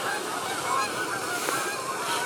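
Several geese honking nearby in a continuous, overlapping squawking chorus, steady and fairly loud with no talking.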